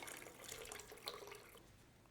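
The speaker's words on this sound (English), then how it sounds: "Pour in all your chicken broth." Chicken broth pours into a pot of red beans in a steady, quiet liquid stream, with a faint splash partway through before it eases off.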